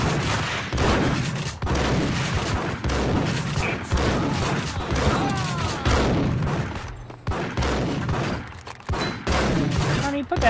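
Gunfire in the video game Max Payne comes as bursts of loud, close shots that repeat through a chaotic firefight, with fleeting voice fragments mixed in.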